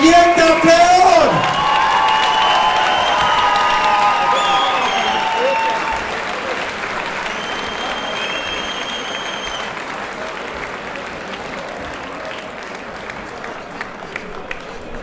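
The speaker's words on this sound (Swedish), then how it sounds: "Ge de här kringarna en jätteapplåd!" Loud audience applause with whoops and cheers fills a Trophy MMA 2012 event hall, strongest in the opening seconds, then settling into steady clapping under an announcer's amplified voice that continues through the rest.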